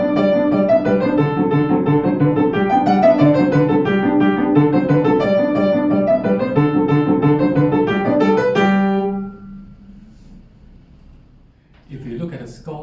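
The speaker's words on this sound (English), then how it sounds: "Offenbach's Galop Infernal," Offenbach's Galop Infernal, the Can-Can, played as brisk, bouncy music for about nine seconds and ending on a held final chord; a voice follows after a short pause.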